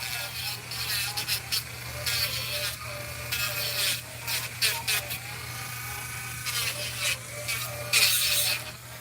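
An electric nail drill files down a nail fill, giving a steady motorised whine with scratchy, rasping grinding that swells and eases in bursts as the bit is moved over the nail.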